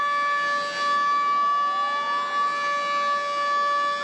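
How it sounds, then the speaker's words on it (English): A sustained air raid siren wails steadily, its tone holding and slowly bending, heard from a distance with no voices. "you can already hear the air siren"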